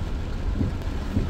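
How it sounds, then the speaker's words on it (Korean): A heavy thunderstorm over Busan is heard from a car during a downpour. Dense, steady rain wash sits over a low rolling rumble of thunder, loud and continuous, with no talk. "지금 번개가 번쩍번쩍한다 아닙니까?"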